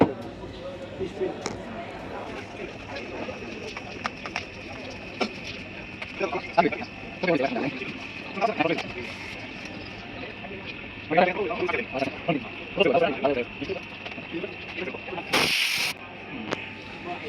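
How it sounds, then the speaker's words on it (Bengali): A safety valve on a compressor loaded to 10 kg, about 150 PSI, lets out a short, sharp, loud hiss near the end, following a stretch of talking over background noise. "আমাদের সেফটি ভালভে একটা কিন্তু শীষ দিয়ে দিল, ওয়ার্নিং দিয়ে দিল"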